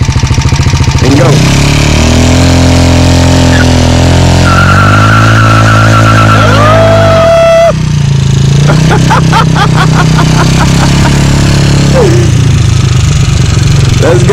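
A Jasscol 200cc trike does a burnout, its engine revving hard and sustained with a rising whine, then cutting and revving again in bursts, loud and close. People talk and shout over it.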